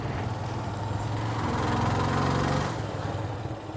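A motorcycle engine on a licensing practice course holds a steady mid-pitched drone, rising through a rev and then dropping off as the throttle rolls back for a gear shift, close and continuous.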